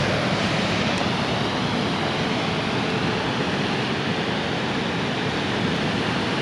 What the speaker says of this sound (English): To the waterfalls, finally.